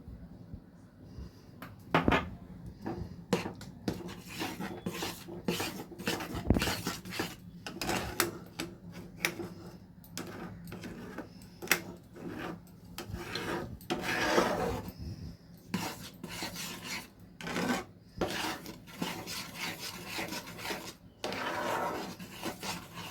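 Mango sandesh mixture with cardamom powder being stirred in a pan, a steady run of scraping, rasping strokes of a spoon against the pan, close and fairly quiet.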